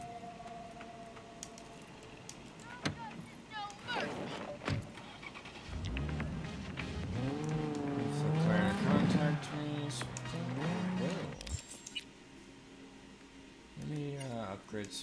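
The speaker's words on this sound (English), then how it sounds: "Let me turn my car on." A car in Cyberpunk 2077 starts up, with a few clicks and a short whir, then its engine rises and drives off in sweeping revs that swell and fade, briefly cutting out before revving again, with speech around it.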